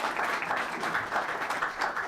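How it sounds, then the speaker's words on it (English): Audience applause at a proclamation ceremony: dense, steady clapping from a crowd that fills the room evenly for two seconds with small swells, no voices over it. "can we give another round of applause to our great mayor, Ed Gainey?"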